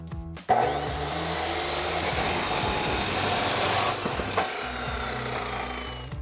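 A power saw cuts through a clamped exhaust pipe for a Ford F-150 EcoBoost: a sharp start, then a loud, steady grinding whine that drops off, with brief motor spin-down and clunks, close by.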